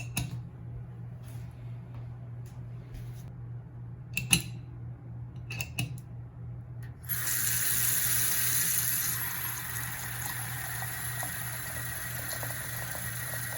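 Tap water pours steadily into a bathroom sink fitted with a new pop-up drain stopper, a broad continuous rush that starts suddenly partway through after a few small clinks and handling sounds, then keeps running alone.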